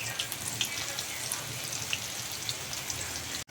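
Cauliflower pieces sizzle and crackle in hot oil, a steady close-up hiss with dense popping and spitting, alone with no voices.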